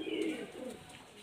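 A young Kotashi pigeon coos softly once at close range in a quiet setting.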